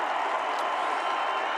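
A parade crowd in Georgia claps and cheers for a team in a dense, steady wash of applause, continuous and fairly loud throughout.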